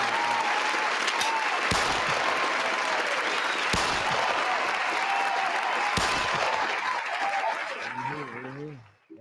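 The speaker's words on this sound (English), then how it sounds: "I gotta give y'all a hand" Sustained, loud applause from a crowd fills the air steadily with dense clapping, then fades near the end as a voice begins speaking.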